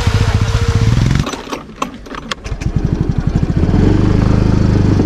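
A motorcycle engine runs loud and close in a large cave, a steady pulsing chug that dips briefly, then revs back up and holds a rough idle.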